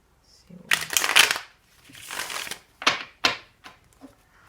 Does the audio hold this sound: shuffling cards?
yes